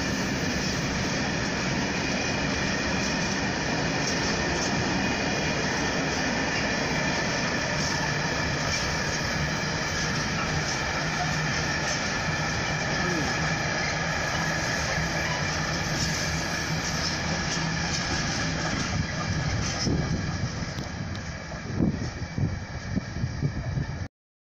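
A train passes at Swindon station, a steady loud broadband rumble and roar sustained throughout with no talk, easing and fluctuating near the end.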